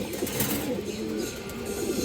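Muslim-tail pigeons coo in a steady low burble, close and moderately loud, with a continuous rolling hum and no break across the short stretch.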